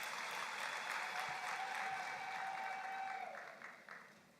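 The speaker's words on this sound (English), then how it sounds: "Another round of applause to the ACM Choir," Audience applauding the ACM Choir at a university graduation ceremony, a steady wash of clapping from a large crowd that holds evenly, then thins and tapers off toward the end.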